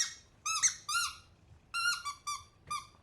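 A dog's squeaky toy squeaks in five or six short, sharp, high-pitched bursts with brief pauses between them, close and clear, with no talking.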